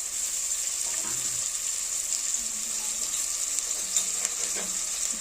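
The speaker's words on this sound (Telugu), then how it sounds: "బాగా ఎర్రగా అయ్యేదాకా ఫ్రై చేసుకోవాలండి." Chopped onions frying in hot oil inside a pressure cooker, a steady bright sizzle with a constant hiss throughout and faint clinks in the background.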